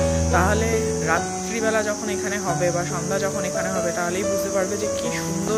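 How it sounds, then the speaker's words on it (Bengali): Crickets trill in daylight among pine trees at a forest resort in Samsing, a high steady buzzing drone running beneath someone speaking close by. "দিনের বেলার আলোতেই এরকম ঝিঝির ডাক তোমরা শুনতে পাচ্ছ"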